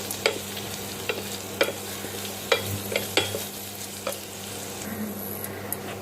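Onions, curry leaves and a dry red chilli sauté in a pan, with a soft continuous sizzle and periodic sharp scrapes and taps as the spatula stirs.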